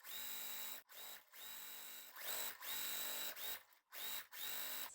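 Sewing machine stitching quilt block pieces in short, loud bursts of motor whir separated by brief pauses, with no talking.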